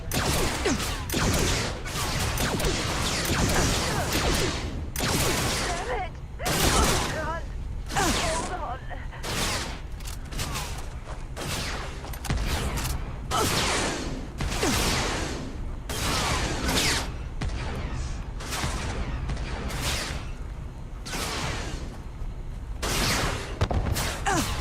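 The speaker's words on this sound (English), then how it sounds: "we got guys using shotguns from far away" Enemy shotgun fire in a Star Wars video game, with dense bursts of shots and whooshing effects from fairly distant foes, repeating rapidly throughout amid a busy battle mix with voices.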